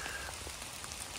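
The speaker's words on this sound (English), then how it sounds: "Oh, the rain's lovely." Rain patters steadily onto leaves and ground in woodland, a dense even hiss of drops with no talk.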